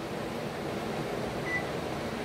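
A Nostalgia MyMini 7-egg cooker gives a single short, faint electronic beep as its start button is pressed, heard over a steady background hum in a quiet kitchen.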